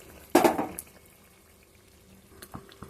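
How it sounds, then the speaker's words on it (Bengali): A short splash of water is poured into a pan of cooking masala with cashew paste and paneer, followed by faint bubbling and a few drips. "এখন বাটিটা ধুয়ে একটু জল দিয়ে দেব।"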